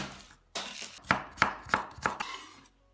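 Garlic is chopped on a board with a knife, about five sharp close chops in an uneven rhythm, with no voices.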